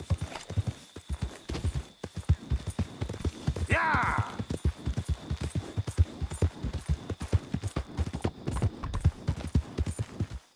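Horse hooves in Red Dead Redemption 2 clop along in a steady, even rhythm at a brisk pace, close and clear, with a brief whinny partway through.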